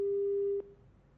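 A single steady telephone tone, loud and sustained, cuts off abruptly as a phone call drops, leaving faint background hiss behind it.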